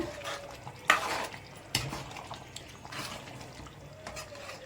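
A spoon stirs Hyderabad green chilli chicken in a pan on the stove, giving a few close, scraping strokes over a faint, steady sizzle, with no talking.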